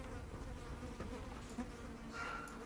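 Swarming human flies in the horror game Layers of Fear 2 give off a steady, close insect buzz that drones for the whole few seconds, with no talking over it.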